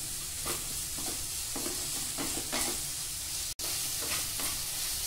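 Masala roasting in a pan over medium-high flame, a soft sizzle under repeated scraping strokes of a spoon stirring the spices, with one abrupt cut near the end.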